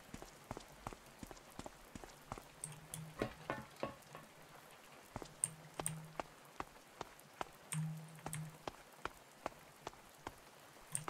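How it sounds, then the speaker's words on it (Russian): Rain falls in the video game A Space For The Unbound as a soft, sparse patter of individual drops ticking irregularly over a faint hiss, quiet and close, with a low hum underneath. "Начинается дождь."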